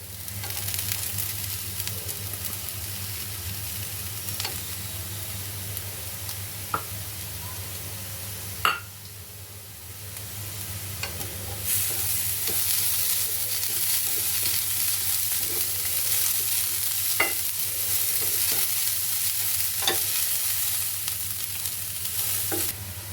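Bitter gourd stir-fried with freshly grated coconut in a pan: a steady close sizzle runs throughout with spatula scrapes and occasional sharp clinks against the pan, and no voices.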